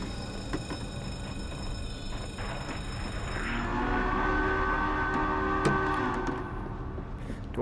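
Train arriving in the virtual reality video game Little Nightmares VR, a low rumbling approach that swells into tonal squealing brakes and a clank, over a steady game ambience.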